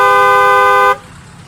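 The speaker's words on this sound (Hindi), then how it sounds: "हॉर्न बज रहा है।" A single loud, sustained car horn blast in a traffic jam lasting about a second, then cutting off abruptly to quiet background.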